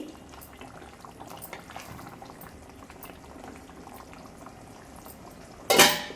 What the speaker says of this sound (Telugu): ఈ లోపల చికెన్ కర్రీ కూడా ఉడికిపోయింది